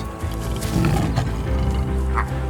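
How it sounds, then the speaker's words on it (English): A lion roars loud and close, deep rumbling calls rising and falling in a continuous surge that fills the whole stretch with no talk over it. "Lions. The world's most iconic cats."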